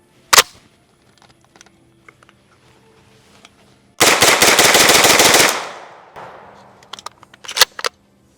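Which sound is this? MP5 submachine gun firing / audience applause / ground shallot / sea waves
MP5 submachine gun firing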